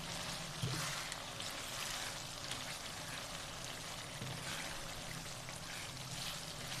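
Cooked minced meat (keema) with peas and potatoes is stirred in a pot, giving a continuous close sizzling hiss with faint scraping throughout and no talk.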